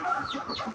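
A six-month-old rooster gives a short, strained crow, one brief continuous call heard up close with no other sound around it.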